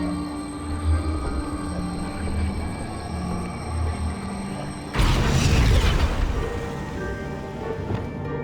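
The Bombarda blasting spell goes off in Hogwarts Legacy as a sudden heavy boom that cuts through a low ambient game soundscape, then rumbles and slowly decays over several seconds, with no talking.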